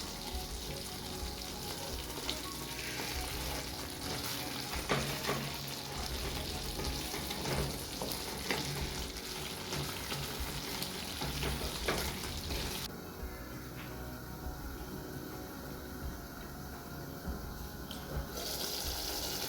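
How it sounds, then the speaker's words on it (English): Chicken curry simmering in a pan, a soft continuous sizzle and bubbling with occasional stirring clinks, fairly quiet and steady with no talking. "I'm going to let this simmer for 3 minutes or 2 to 3 minutes"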